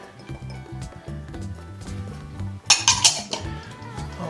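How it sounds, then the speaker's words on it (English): Crusty topping for a low-carb keto Reuben casserole dumped into a bowl and mixed by hand, with close clatter and clinks of utensils against the bowl, a brief sharper burst of scraping midway, over a low steady background hum. "we're just going to dump all this into a bowl and mix it up"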